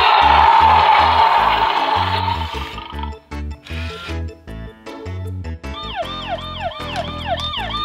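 A police siren wails in a repeating up-and-down pattern, loud and close, following a stretch of busy music with a steady beat.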